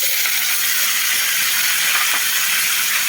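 An omelette (torta) fries in a pan over an early-morning breakfast fire, giving a steady, dense hiss of sizzling that runs unbroken and close, with no voices over it.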